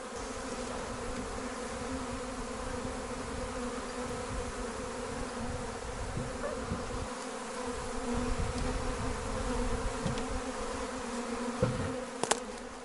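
A steady, dense buzzing of a large honey bee swarm being shaken into an improvised hive, continuous and moderately loud, with a few individual bees passing closer near the end.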